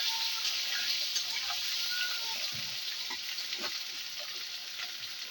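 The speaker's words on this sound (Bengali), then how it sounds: "গরম তেল। এখন দেওয়া হলো আলু। আলুটাকে একটু ভালো করে ভেজে নেওয়া হবে" Potatoes sizzling and frying in hot oil in a home kitchen pan, a steady crackling hiss throughout with faint stirring clatter, no talking.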